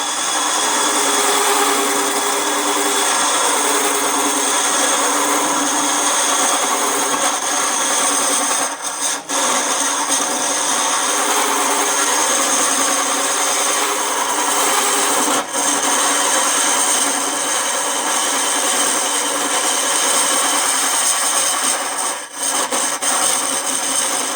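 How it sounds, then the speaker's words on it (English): A wood lathe runs at about 500 RPM while a bowl is hollowed, giving a loud, continuous, harsh scraping roar that holds steady for the whole stretch, with only a few brief dips. "Alright, so here's some hollowing. Hold your ears, it makes noise."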